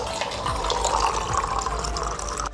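Water is poured steadily into a clay pot used as a cooler, giving a continuous splashing, filling rush with small gurgles for a few seconds and no voices.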